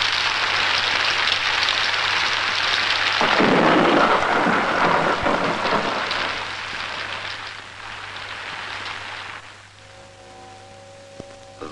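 Heavy thunder rolls and rumbles through a thunderstorm with steady rain, loud and sustained, easing off toward the end as fainter rain and a low drone remain.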